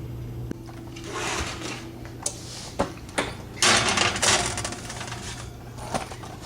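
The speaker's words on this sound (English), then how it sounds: "Now we're going to pop them in the oven." Metal baking trays slide and clatter into a home oven: a run of scraping, clinking knocks with a few sharp metallic taps and a louder rattling burst near the middle, close by with no voices.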